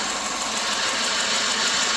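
A 2009 Subaru Legacy engine runs steadily at raised revs, held around 4,000 to 5,000 RPM, a dense, loud mechanical drone holding even for the whole stretch with no voices.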